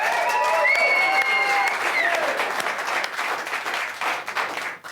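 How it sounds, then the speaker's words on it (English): A crowd of fans applauds the Moto3 world champion, with sustained clapping and some cheering. A bright whistle or cheer rises early on, then the applause gradually thins toward the end. "ladies and gents, one final round of applause"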